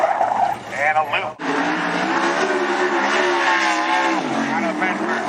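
A sprint car at Sunset Speedway Park revs and its tires squeal as it spins out on its first lap. The engine whines loud and close, pitch sweeping up and down under a commentator's voice.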